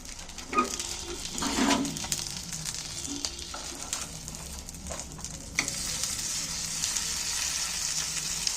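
Egg and onion patties frying in a pan make a continuous crackling sizzle, with a few louder scraping spatters early on as they are turned, then a steady, brighter hiss.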